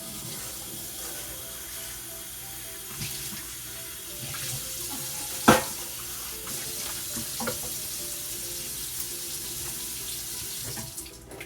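A measuring cup rinsed under a running kitchen tap while making pancakes, steady rushing water with a loud clunk midway and a few light knocks against the sink, no speech.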